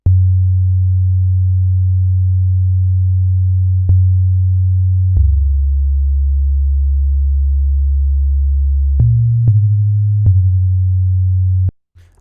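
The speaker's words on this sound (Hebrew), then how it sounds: "אני שם לב ברפרנס שתפקיד הבאס הוא מאוד סטטי ונמוך" A static, low synth bass line built on a wavetable synth with a sub oscillator, recreating the bass of a song: long sustained notes that shift pitch only a few times, steady and loud with nothing else playing.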